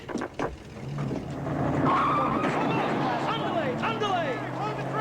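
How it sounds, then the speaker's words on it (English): A truck drives hard and skids with tire squeal and engine roar during a security-compound chase scene, loud and sustained, with voices talking over it. "you got a truck coming your way."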